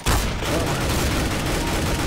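Counter-Strike: Global Offensive gunfire, a dense, continuous burst of rapid shots from the game, loud and unbroken for about two seconds, with faint voice under it.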